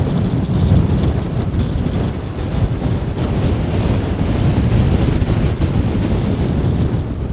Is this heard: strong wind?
yes